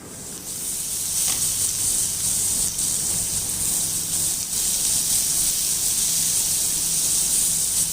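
Chopped garlic and onion sauté in a hot pan for baingan bharta, giving a steady, close sizzle and hiss throughout with no talk over it.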